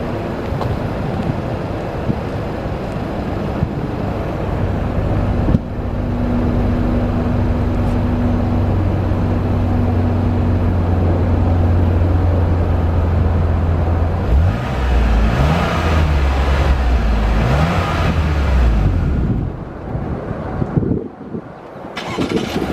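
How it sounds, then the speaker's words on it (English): A 2019 Chevy Blazer RS FWD engine idles steadily with a low exhaust drone, then revs up several times in rising and falling bursts before cutting back, loud and close. "I'm gonna let you guys get a quick exhaust note real quick"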